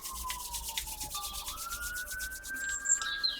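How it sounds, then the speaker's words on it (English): Hands rubbing together briskly during a yoga session, a soft steady brushing friction with no talk, while a faint thin tone drifts in the background. "just going to rub your hands together"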